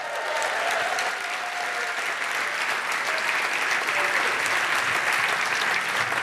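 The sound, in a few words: audience applause in a great hall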